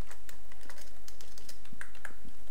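Rapid, irregular keystrokes on a computer keyboard while C code is typed, a steady patter of clicks up close with no talking.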